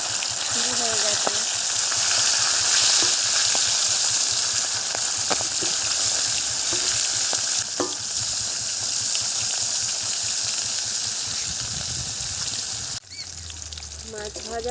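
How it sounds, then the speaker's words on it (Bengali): Shing and magur catfish fry in hot oil in a village kitchen, a steady loud sizzle with scattered sharp pops and spits throughout, ending in a brief clatter. "মাছগুলো ভেজে নেব।"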